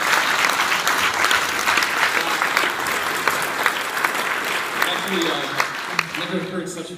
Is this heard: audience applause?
yes